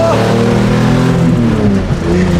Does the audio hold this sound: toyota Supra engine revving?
yes